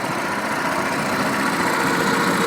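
An old machine's engine runs in high ratio gear, giving a steady, loud, close rumble with a low vibrating throb that holds an even pitch throughout, with no voices.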